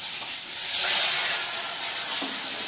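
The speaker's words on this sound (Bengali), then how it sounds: "আমি উল্টিয়ে দিচ্ছি আর একটু কড়া করে ভেজে নিই" Fish, just flipped, fries crisp in hot oil, a loud, even, close sizzle and hiss that swells slightly and holds steady throughout.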